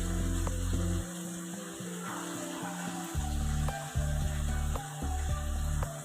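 Cabbage and carrot stir-fry in a pan for chicken noodles, a soft sizzle with occasional stirring clinks, mostly masked by steady background music.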